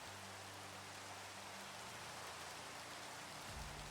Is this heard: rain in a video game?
yes